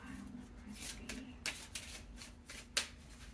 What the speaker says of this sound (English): I have small hands, so it's hard to shuffle big decks.